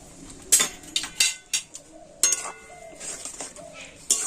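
Flattened rice with salt stirred in a pot of water, a spoon clinking and scraping against the metal in scattered strokes, close and moderately loud, with a voice talking between them.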